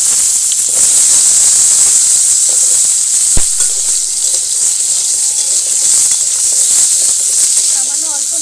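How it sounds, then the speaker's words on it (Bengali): Potatoes fry in hot oil with a loud, steady, close sizzle and hiss that runs throughout, broken by a single sharp knock midway and some faint clinks near the end. "তেলে আলুগুলো ভেজে নেব।"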